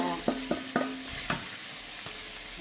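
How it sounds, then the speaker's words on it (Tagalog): Cubed potatoes, carrots and chayote are sautéed in a pan, a soft sizzle broken by a few distinct scrapes and clanks of stirring, close and without talk. "ilagay na po natin ang mga gulay, patatas, carrots, sayote. Yan, igigisa na po natin siya."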